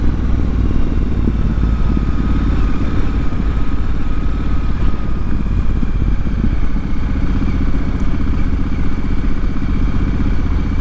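A motorcycle being ridden, lugging in third gear, gives a loud, continuous low engine rumble with wind and rattle. It sounds close and steady for the whole stretch, with no talk.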